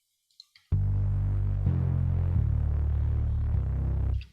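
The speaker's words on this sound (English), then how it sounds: "I've layered this with Liverpool bass just to give it depth so that it sounds better." In Logic Pro, a synth bass layered with the Liverpool bass patch plays a sustained, deep throbbing line of a few long notes that shift in pitch. It holds loud and steady after a couple of faint clicks, then fades out, with no voices.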